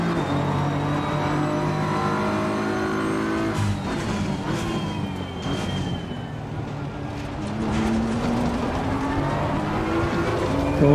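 BMW and Porsche race cars at speed in the racing game Assetto Corsa Competizione, a loud steady engine drone with rising and falling pitch as gears change, continuous throughout.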